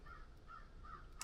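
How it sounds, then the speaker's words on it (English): Crows caw in a quick series of calls outdoors on a cold, snowy homestead, faint and somewhat distant, with no talking. "I can hear the birds"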